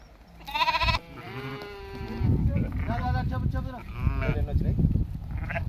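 A flock of 66 sheep and 22 lambs bleat loudly and repeatedly, overlapping one another close by, with a restless farmyard din of animal noise underneath.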